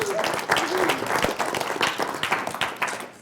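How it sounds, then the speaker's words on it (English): Audience applause at an evening community gathering, a brief burst of many hands clapping in a room, steady and fairly close, fading toward the end with a few voices mixed in. "Give her a big round of applause."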